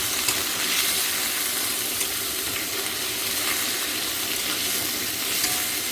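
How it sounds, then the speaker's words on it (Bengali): Meat sizzles in hot oil in a wok for chicken chowmein, a steady loud broadband frying hiss with faint stirring, no voices. "কড়াই তেল দিচ্ছি প্রথমে, তারপর মাংসটাকে ভাজছি"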